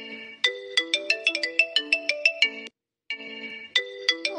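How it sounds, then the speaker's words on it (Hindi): A phone ringtone plays loud and close, a bright repeating melodic tune of quick chiming notes that cuts off briefly and then starts again. "अरे उठाओ फोन, क्या कर रहे हो जी? उठाइए फोन, उठाइए।"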